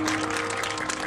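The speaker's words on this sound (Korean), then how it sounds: "박수로 모셔주세요." Brief outdoor applause at a workers' protest rally as a rapper is welcomed to perform, a short burst of many hands clapping over a steady electrical hum from the sound system.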